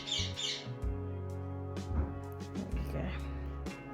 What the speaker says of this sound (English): I can hear my mum telling off my bird, Franky.